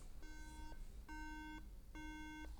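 Three evenly spaced electronic beeps from a MacBook Air after a RAM swap, each about half a second long, moderately loud against a quiet background.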